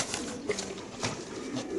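Racer pigeons in a numbered cage at a pigeon sale coo in low, soft bursts with a brief flutter of wings, close and moderately quiet against a busy background.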